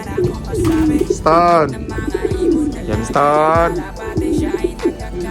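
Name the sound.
pigeon cooing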